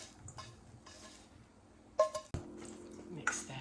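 Shrimp stirred into sautéed veggies in a pan, soft scraping and squishy stirring with a couple of sharper utensil clinks against the cookware midway, quiet and close, no talk.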